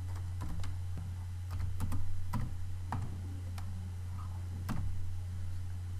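Keys tapped on a computer keyboard as a question is typed into a Telegram bot's settings, scattered clicky strokes in short uneven bursts over a steady low electrical hum, close and fairly quiet.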